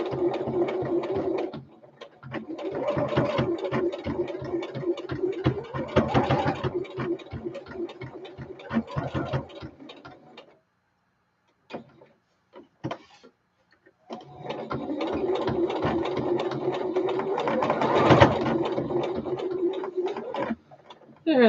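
A sewing machine runs zigzag stitching in bursts, a close rapid mechanical whirring and ticking that runs for about ten seconds, pauses briefly with a few clicks, then resumes steadily.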